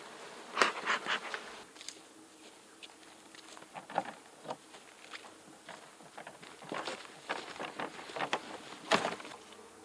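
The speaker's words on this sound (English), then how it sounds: "There are quite a few bees in that box" Bees buzz in and around a hive box, with scattered close passes and buzzing bursts over a faint background hum, with no voices.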